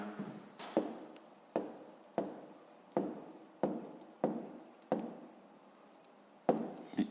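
Pen writing out a math solution on paper, a series of short scratchy strokes in an uneven rhythm, about nine distinct bursts, close and quiet with no talk.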